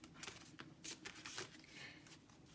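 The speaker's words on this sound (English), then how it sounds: "I'm shuffling the cards like we're getting ready" Oracle cards shuffled by hand, a soft papery riffling and sliding in quick irregular bursts, close and fairly quiet, with no talking.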